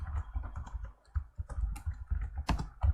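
A password being typed on a computer keyboard during a Kali Linux install, heard as a close, fairly quiet run of irregular key clicks and taps with brief pauses between bursts.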